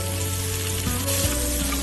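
Pork ribs stir-fried over high heat in hot oil with scallion and ginger slices, a steady close sizzle and crackle running throughout, with a faint tonal hum underneath.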